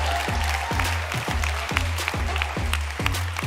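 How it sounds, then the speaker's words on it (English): A conference audience claps for the CEO of PUMA, a steady dense wash of applause with a regular low rhythmic thumping beneath it, continuous throughout. "Keep that round of applause going for the CEO of PUMA."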